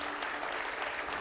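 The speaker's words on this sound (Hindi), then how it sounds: "मैं चाहूंगा तालियां तो आए पहले यहां पर।" Studio audience at a Hindi political talk show clapping, a brief burst of dense, evenly spread applause from many hands, close and steady without any voices.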